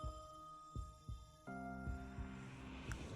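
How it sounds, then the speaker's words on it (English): A slow, deep heartbeat throbs under a droning hum in the background of a Honkai: Star Rail trailer, with a few soft, evenly spaced thumps at a low level and a faint high tone toward the end. "That heartbeat in the background."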